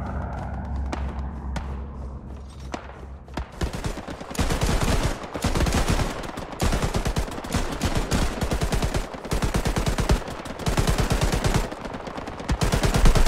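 Sustained machine gun fire in the World War II shooter Hell Let Loose on the Utah Beach map during a D-Day battle, with rapid bursts building after a quieter start and continuing steadily, loud and close, with scattered thuds.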